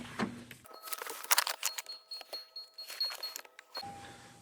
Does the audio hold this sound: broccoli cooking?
no